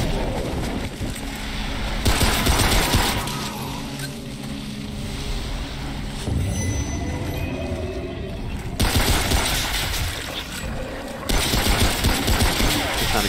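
Machine-gun fire from a gunner enemy in Remnant: From the Ashes, sustained rattling bursts that start and stop over a dense, noisy combat background.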